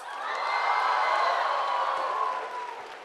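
An audience at a campus language festival cheers and whoops for a team, a sustained crowd roar that swells, holds and fades over a few seconds, with children's shouts mixed in.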